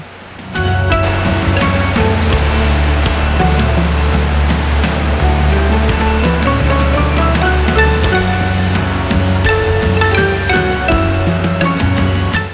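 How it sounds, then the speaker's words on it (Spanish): Water of the Arazas river tumbling down a stepped series of cascades at the Gradas de Soaso in Ordesa, a loud, steady roar of rushing falls that swells in after a second and holds unbroken throughout. "las aguas del río Arazas caen en escalera, formando una sucesión de cascadas"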